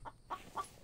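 A chicken in a survival video game gives three short soft clucks in quick succession, faint and close, with no voices over them.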